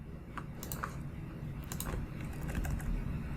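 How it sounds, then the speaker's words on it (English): Computer keyboard keys pressed in a quick series of light clicks, close and fairly quiet over a steady low room hum, with no voices. "I'm going to just use the keyboard to inch this down a little bit"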